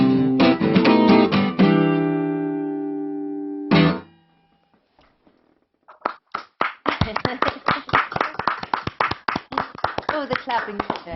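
A sung song with instruments stops, a few seconds of near silence follow, then an audience breaks into steady clapping of many hands, sharp and fairly close, lasting to the end.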